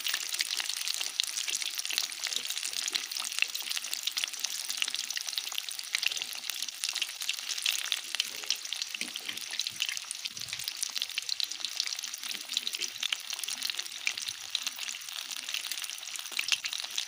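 Fish pakora frying in hot ghee, a steady bright sizzle with bubbling crackle running continuously and fairly close, with no talk over it.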